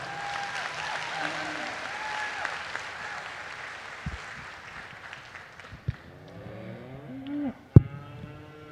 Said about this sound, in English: Let's give these kids one huge round of applause.